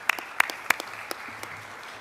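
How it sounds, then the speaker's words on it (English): A brief round of applause at a surgical society business meeting, a few sharp distinct claps standing out over a thin, scattered patter from the audience. "we'll give them a quick round of applause"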